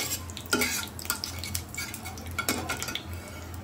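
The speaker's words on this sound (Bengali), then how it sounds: "কালো জিরা ফোড়ন দিয়েও ভালোভাবে নাড়িয়ে নিচ্ছি তেলটার সাথে" Nigella seeds sizzle quietly in hot oil while a spoon stirs and clinks against the pan, making intermittent scrapes and taps close by with no talk.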